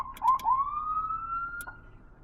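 A Whelen Alpha12M mechanical siren gives a rising wail that climbs steadily and holds a sustained high tone, with a few brief clicks near the start and a short burst toward the end. It is close and loud, with no voices.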